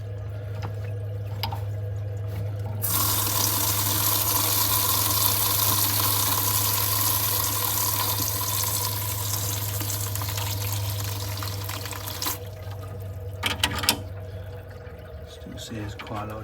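Water rushes steadily as a heating system is flushed through into a sink during a gas engineer's job, a loud continuous gush lasting most of the stretch before cutting off, with a few clunks near the end.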